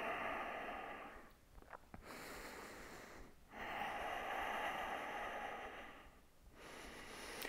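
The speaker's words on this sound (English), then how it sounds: "Ujjayi breathing." Loud ocean-like breathing during a vinyasa yoga class: two long, steady breaths with a brief gap between them, close and alone with no talk.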